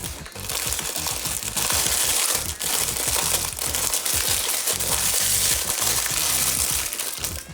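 Plastic wrap crinkles and crackles steadily and close up as it is peeled back from the top of a skein of yarn for crochet, a dense continuous rustle with no talking.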